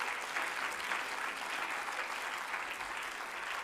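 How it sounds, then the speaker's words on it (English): A steady, dense round of applause from a large audience at a youth health consultation event at AIIMS Rishikesh, with even clapping and no breaks across the whole span. "please keep the roars of clapping on high"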